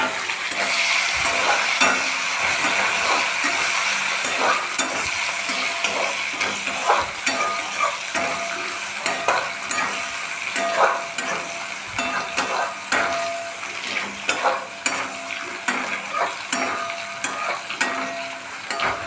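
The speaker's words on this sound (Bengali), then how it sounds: "এটা সামান্য গরম হয়ে গেলে আমি দিয়ে দেব আগে থেকে কুচিয়ে রাখা পেঁয়াজ।" Chopped onions fry in hot oil with a constant sizzle, while a spatula scrapes and knocks against the pan in a steady stirring rhythm, loud and close, with no talking.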